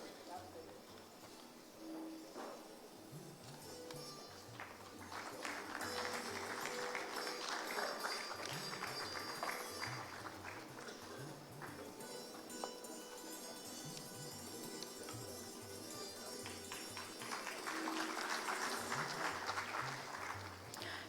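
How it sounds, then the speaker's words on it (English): Audience applause for dignitaries on the dais at a formal event about Parsis in modern India, a steady wash of clapping that swells after a few seconds and keeps going, with a brief rise near the end. "May we have a good round of applause for all our dignitaries on the dais."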